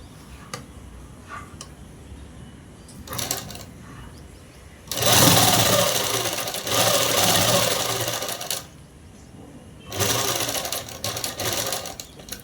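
Stitching a French-cut dress, a sewing machine runs in two loud sustained bursts separated by a pause, with scattered soft ticks and handling clicks before and between the runs.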